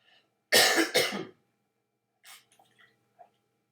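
Two sharp coughs close together, followed by a quieter cough and a few small throat sounds in an otherwise quiet room.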